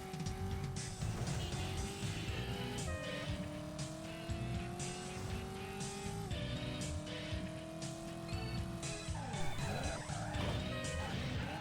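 A car racing in the Driver: San Francisco video game, its engine droning and climbing through gear shifts, with tire squeals and a crash late on, all steady and close.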